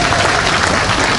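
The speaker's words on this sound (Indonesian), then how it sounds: "tepuk tangan dulu dong" A crowd at an Islamic sermon gathering in Cempaka Putih subdistrict breaking into loud, dense applause, close and continuous.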